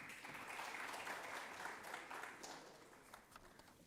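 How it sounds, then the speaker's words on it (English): An audience at a seed industry association's annual general meeting and conference applauds in a steady, dense wash of clapping that stays fairly quiet and distant, tapering slightly toward the end. "A huge round of applause"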